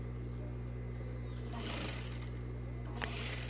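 An overlock sewing machine threaded with white thread stitches elastic around the leg opening of children's underwear, giving a steady, close whirring hum with faint rustling of fabric.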